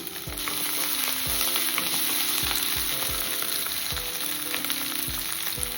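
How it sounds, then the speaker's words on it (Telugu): Tomato pieces with ginger garlic paste fry in a pan with a continuous close sizzle, and rhythmic low thumps and scrapes of stirring recur about every half second with no talk. "ఒక 1/2 కప్పు టమాటా ముక్కలు వేసి వేయించేసుకోవాలి."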